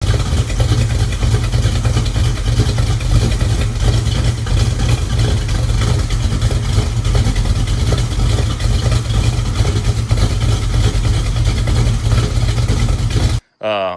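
A Dodge Dart with a V8 and a mildly lumpy camshaft idles close by, its loud, steady, slightly loping engine note running continuously until a brief cut near the end.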